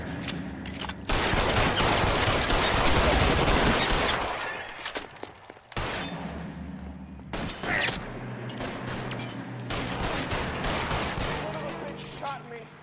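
Loud close gunfire in L.A. Noire, a dense volley of rapid shots that breaks off, then returns in further bursts and single cracks.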